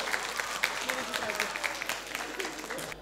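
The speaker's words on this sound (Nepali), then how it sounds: "सबैजना एकचोटि जोरदार ताली प्लिज।" An audience clapping at a Newar community dance competition event, irregular bursts of applause from a moderate crowd with a voice speaking over it.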